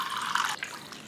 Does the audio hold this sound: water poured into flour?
yes